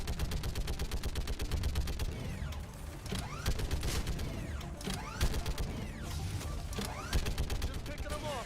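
Rapid bursts of heavy-gun fire from a large mounted weapon in a video game, a fast mechanical rattle of shots with sporadic louder booms, with a person talking during it.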